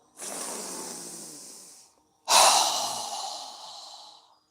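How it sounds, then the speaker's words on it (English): Two strong, forceful exhales through the mouth during yoga breathing, each a long, close, airy rush that fades out, with a short silent gap between them. "exhale through our mouth with a strong exhale as we lower our hands down"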